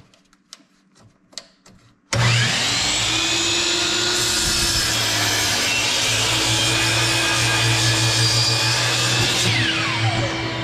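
A power saw spins up to cut wooden boards on a MikroBench workbench at a table saw fence. A few light taps come first, then a loud, steady whining motor runs close by, with a brief change in pitch during the cut.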